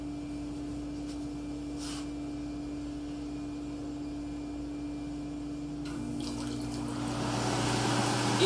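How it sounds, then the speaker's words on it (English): Humidifier transducers hum steadily as they throw up small water fountains and mist, a continuous droning tone with faint bubbling and hiss that grows louder toward the end. "Each transducer should have a 2 to 3 inch fountain or finger of water off of it, and the mist would roll off that fountain"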